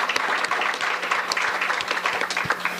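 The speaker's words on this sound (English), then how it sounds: "so a round of applause for that" An audience at a Riders sports fan event applauds the team captains, brisk close-up clapping with sharp individual claps over a continuous crowd patter.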